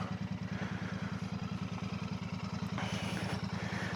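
A Royal Enfield Bear 650 motorcycle engine idling nearby with a steady, fast, even throb, loping pulses continuing without pause, no voices.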